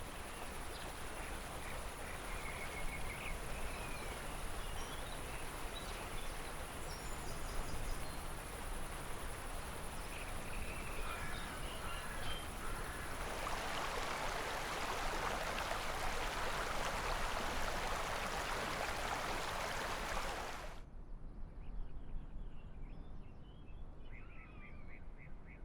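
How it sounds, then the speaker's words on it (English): Running river water and wildlife ambience in Microsoft Flight Simulator, a steady broad wash of flowing water with faint bird and insect calls, swelling louder midway before cutting off abruptly. "You can hear the river right there running. You hear some wildlife."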